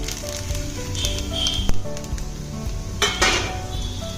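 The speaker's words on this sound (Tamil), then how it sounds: "சேமியா பார்த்தீங்கன்னா நெய்ல வந்து நல்லா வறுபடணும்." Vermicelli roasts in ghee in a pan for semiya payasam, a soft sizzle under repeated scraping and clinking of a metal spoon against the pan, with a couple of louder knocks and no talk.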